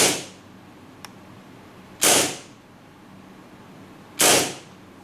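A KWA MP7 airsoft submachine gun fires BBs on green gas: three sharp, loud single pops about two seconds apart, close by, each with a short hissing tail against quiet background.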